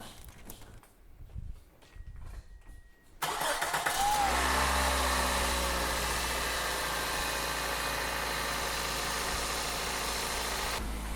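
A Toyota Corolla's 1.8-liter 1ZZ-FE engine, just refitted with a new valve cover gasket, cranks and catches after a few quiet seconds of tool clatter, then settles into a steady, close idle.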